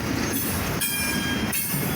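A CSX freight train with rock carrier cars rolls past close by at a commuter station on the Woodbourne line, a loud continuous roar of wheels and rail with repeating squeals and clanks as cars go by.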